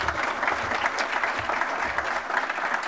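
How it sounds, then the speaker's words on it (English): An audience at a youth-sports conference claps in a steady, moderate round of applause, heard somewhat distantly in a hall. "So a round of applause to those big supporters of Project Play."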